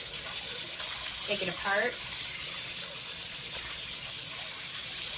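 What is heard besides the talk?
rinsing items under running water at sink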